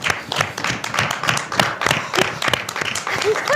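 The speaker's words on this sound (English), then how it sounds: "we need to give them a round of applause" A crowd gives a round of applause, dense overlapping hand claps continuing steadily and fairly loud, with a few voices mixed in.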